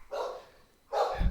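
Dogs barking indoors, two short bursts of barks separated by a brief pause, moderately close and alone without talk.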